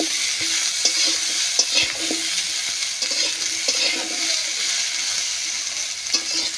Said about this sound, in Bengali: আলু আর ঝিঙের মধ্যে জলটা বেরিয়ে যাবে, তাহলে ঝিঙেটা বেশ ভালো করে ভাজা হবে